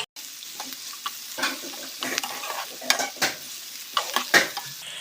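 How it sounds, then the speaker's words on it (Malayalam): Sliced onions frying with salt in a pan, stirred continuously, giving a steady sizzle with repeated scraping and clattering of a spoon, close and fairly loud. "ഉപ്പൂടെ ചേർത്ത് നന്നായിട്ട് മിക്സ് ചെയ്യാം"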